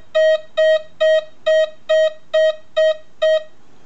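A Nexus metal detector sounds eight evenly spaced, loud, steady tones over a screwdriver in a discrimination test, each short beep repeating about twice a second with no voices.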